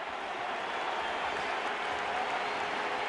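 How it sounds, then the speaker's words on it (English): Baseball crowd at Fenway Park applauding during a Yankees vs Red Sox game, a steady, dense roar of clapping and cheering that holds at even loudness throughout, broad and wide-spread like a full stadium. "This crowd here at Fenway right now is applauding the ejection of Alex Rodriguez"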